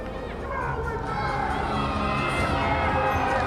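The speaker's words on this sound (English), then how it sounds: "Good crowd in, a lot of travel down from Yorkshire, from Wakefield." A stadium crowd of rugby fans, many travelling from Wakefield in Yorkshire, fills the air before a match with a steady, rising roar of cheering and shouting, with someone talking over it.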